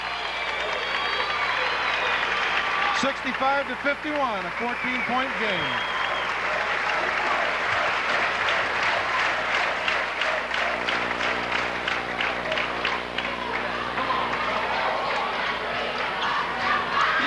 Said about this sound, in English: Mike gets a standing ovation from this crowd.